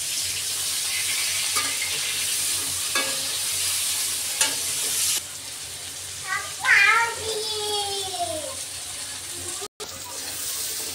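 Prawns frying in oil in a pan give a steady, close sizzling hiss for several seconds, then the sizzle drops quieter and a few sliding tonal chirps come in over a softer background.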